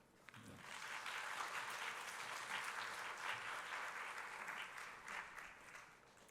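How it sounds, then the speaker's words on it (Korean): A youth worship congregation applauds to welcome a preacher to the pulpit, steady sustained clapping from the whole room that holds for several seconds before trailing off a little. "우리 박수로 격려하시고"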